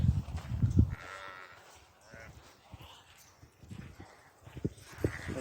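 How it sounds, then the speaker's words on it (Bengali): Fat-tailed dumba sheep on a farm in Saudi Arabia give bleats and calls at close range, with bursts of animal noise and shuffling; no one speaks. "এগুলি ছাগল না এগুলি দুম্বা"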